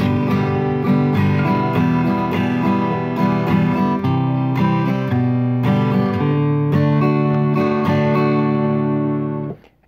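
An acoustic guitar strums the verse chords of a song in a steady progression with a regular rhythm, ringing clearly with no voice, then cuts off abruptly.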